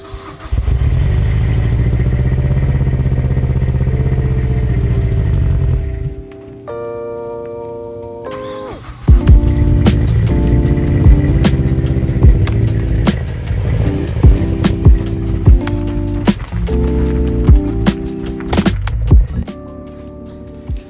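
Engine of a 2007 Mazdaspeed3 struggling to stay running: a loud idle that cuts out, then a restart with an uneven, stumbling idle and repeated revs and sputters, close to the car.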